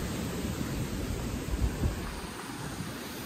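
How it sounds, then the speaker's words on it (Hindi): Rain falls at foggy Venna Lake in Mahabaleshwar, a continuous close broadband hiss with a few deeper rumbling thumps midway, with no talk. "और बारिश भी हो रही है साथों साथ"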